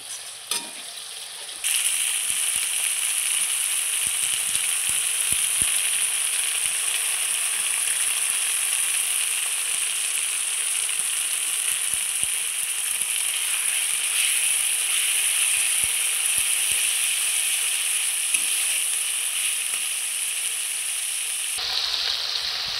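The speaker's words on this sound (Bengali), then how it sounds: "বন্ধুরা দেখেন মশলাটা খুব সুন্দর করে আমি ভেজে নিচ্ছি।" A spice paste with turmeric fries in oil for a fish dish, a loud, steady, close sizzle that starts abruptly and runs unbroken, with faint occasional stirring clicks and no talking.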